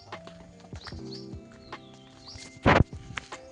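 A pair of bullocks sets off toward the fields, their hooves clopping in scattered, irregular steps close by, with one sharp louder knock near the end.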